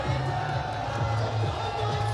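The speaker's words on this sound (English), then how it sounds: "look at the crowd here, they are cheering up for them" A crowd at a Jaypee Punjab Warriors vs Ranchi Rhinos match makes a continuous, loud, roaring murmur of many voices, with rough swells but no distinct bursts of cheering.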